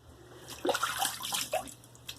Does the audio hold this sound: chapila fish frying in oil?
no